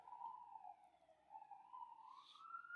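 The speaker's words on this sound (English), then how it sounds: "Excuse the sirens." A wailing siren rises and falls steadily in the distance, one continuous tone sweeping up and down with no other sounds around it.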